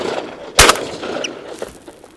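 A single sharp shotgun shot cracks out sharply over outdoor ambience during a duck hunt, followed by a faint echoing tail.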